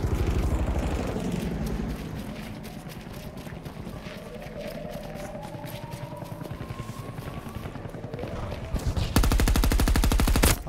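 Rapid automatic gunfire in the Battlefield 2042 video game, sustained bursts of shots over engine and vehicle rumble, ending in a louder, dense volley.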